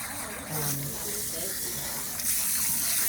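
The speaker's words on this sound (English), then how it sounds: "But make sure you rinse all that out." Water runs steadily from a salon sink tap while a client's hair is rinsed, a close, continuous broadband gush with a voice faintly underneath.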